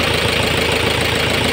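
A Mitsubishi engine that burns oil and blows white smoke idles steadily after starting, a loud, close, even rumble with a faint rhythmic knock and no talking.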